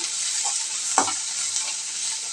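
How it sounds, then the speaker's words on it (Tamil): Ground sundakkai paste for rasam sautéing in a pan gives a steady, bright close sizzle with one short scrape of the spoon midway, alone without talk. "மிக்சியில் அரைச்சி வச்சுருக்கோம் அதை இதில் சேர்த்து நல்லா வதக்கி விட்டுக்கலாம்"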